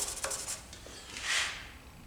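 A fountain pen body being wet-sanded with a 1500 grit pad to remove radial scratches, giving soft, faint rubbing strokes close by with a slightly louder rasping pass near the end.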